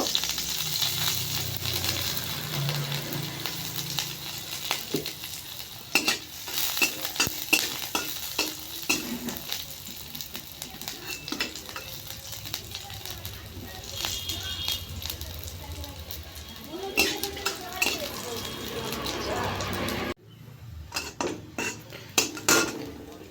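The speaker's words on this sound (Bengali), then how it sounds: "তেল হিট হয়ে গেছে কাঁচা লঙ্কা দিয়ে দেব রসুন দিয়ে দেবো" Green chillies and garlic crackle and sizzle in hot oil, with a utensil repeatedly stirring and scraping the pan and a voice faintly underneath.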